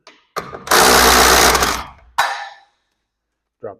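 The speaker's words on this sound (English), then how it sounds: "Take your drill." A cordless power drill spins at full speed for a second or so while a worn roller is removed from a garage door track. Then comes a short second whir and a brief faint voice.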